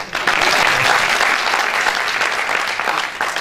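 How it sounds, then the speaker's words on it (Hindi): Audience applause fills a hotel hall at a mushaira poetry gathering in Patiala, Punjab, a steady, dense burst of clapping from a crowd that holds at full strength before tapering slightly near the end. "बहुत देर से तालियां नहीं बजी।"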